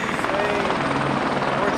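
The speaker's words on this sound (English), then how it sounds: "That's the helicopter that I wish I rode down to hike this thing." A helicopter flies overhead near Havasupai, its rotor giving a loud, steady chopping thrum that fills the whole short stretch without letting up.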